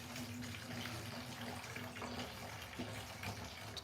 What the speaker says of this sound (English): I'm gonna empty my water here.